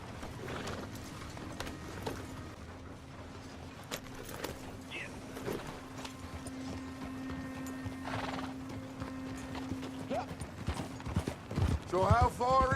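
Horses in Red Dead Redemption 2 ridden at a steady pace, with continuous hoof clip-clop and creaking tack, a neigh partway through and a louder whinny at the end, under faint background sound.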